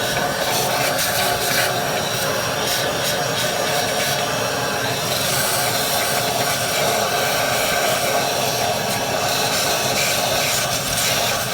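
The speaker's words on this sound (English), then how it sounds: "I'm getting them set up with the blowgun too, and I'm going to blow this out" A continuous loud hiss of compressed air from a blowgun nozzle blowing out the inside of a 12 kW Powertech generator, steady and close, with faint rattling of dislodged dirt.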